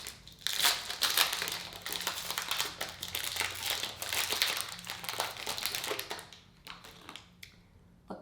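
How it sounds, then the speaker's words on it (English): Crinkly plastic wrapper of an RXBAR chocolate coconut protein bar being torn and peeled open, close and fairly quiet, with irregular crackles and rustles that taper into sparse crinkles at the end. "First, I'm unwrapping the chocolate coconut."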